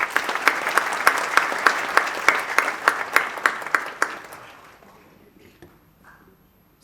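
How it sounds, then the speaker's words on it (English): An audience at a singing and storytelling stage show applauds the sponsors, a dense burst of clapping with a few loud individual claps standing out, fading away over the last couple of seconds. "Ladies and gentlemen, a round of applause for all our sponsors, please."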